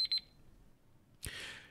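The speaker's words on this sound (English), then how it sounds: "When you hear the beep, beep, beep, you know it's over." Short electronic beeps, two or three quick high tones close together, mark the end of a broadcast show segment, followed by a soft burst of broadband noise.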